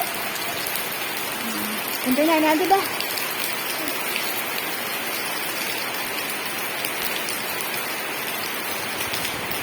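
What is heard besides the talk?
rain falling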